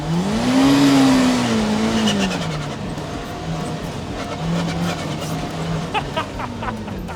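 Kawasaki Teryx5 H2 side-by-side tearing through high-speed whoops, its supercharged engine loud and rising then dipping in pitch, with tire and suspension noise and a rough, bumpy texture throughout.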